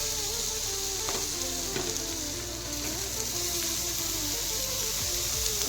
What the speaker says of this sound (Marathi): आपण याच्यामध्ये आता ही फणसाची भाजी आपण आता ॲड करणार आहोत